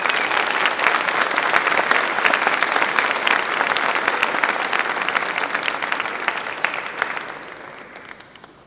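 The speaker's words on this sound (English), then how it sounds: "and so give them a round of applause." An audience at a high school pops and awards concert applauds a band, steady dense clapping that carries on for several seconds and then tapers off near the end.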